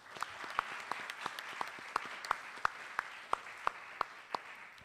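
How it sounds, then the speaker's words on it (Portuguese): Sparse, faint applause from an audience at a university tribute ceremony, with distinct individual claps landing at a roughly even pace over a quiet hall background. "com a salva de palmas."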